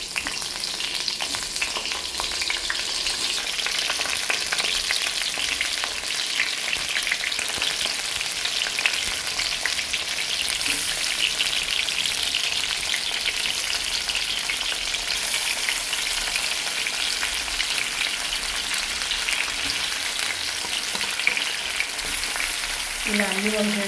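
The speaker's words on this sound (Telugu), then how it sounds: "ఇప్పుడు వంకాయలని నూనెలో వేసేద్దాం." Stuffed eggplants (gutti vonkaya) fry in hot oil in an uncovered pan, a dense, even crackling sizzle that holds steady from start to finish.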